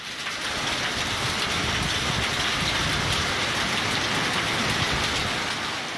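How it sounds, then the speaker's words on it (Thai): Hail falls in Xiangkhouang province, Laos, a dense, steady roar of ice pellets and rain pounding on surfaces, loud and continuous throughout with no voices. "ที่แขวงเชียงขวางเจอลูกเห็บตกครับฟังเสียง"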